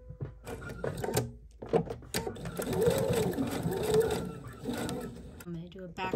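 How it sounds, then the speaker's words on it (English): A sewing machine runs in short, close bursts while stitching a drawstring bag, its rapid needle clatter starting, pausing and restarting, with faint handling noises between runs. "Do a fixed stitch or a back stitch to start"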